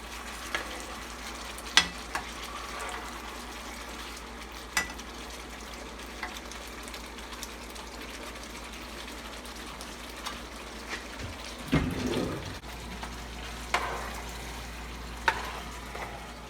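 Carne guisada simmers in a pan, giving a soft, continuous bubbling sizzle with occasional small pops and a brief louder burble partway through, heard alone.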